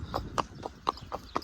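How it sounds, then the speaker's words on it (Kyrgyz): A horse's hooves clip-clop steadily on a road, about six even, moderately close strikes in a walking rhythm over a low background hum. "Аттын такылдаган үнү жолдо."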